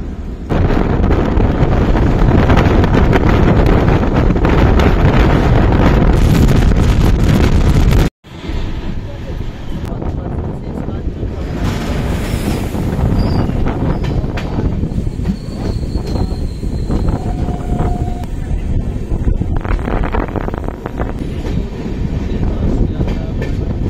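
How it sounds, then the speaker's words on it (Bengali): A Humsafar Express train pulling out of Malda Town station, heard from on board as a loud, continuous rumble of wheels and carriages with wind buffeting the microphone, a brief cut midway, then steady rolling with occasional faint squeals. "মালদা টাউন থেকে আমাদের ট্রেন ছেড়ে দিল।"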